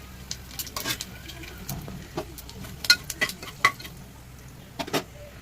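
Whole cinnamon, fennel, bay leaf and clove sizzle in hot oil, a soft steady crackle broken by sharp pops and a few spoon scrapes, close and fairly quiet with no talking.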